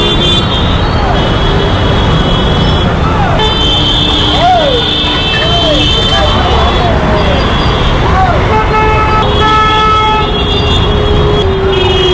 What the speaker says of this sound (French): c'est eux qui nous klaxonnaient en fait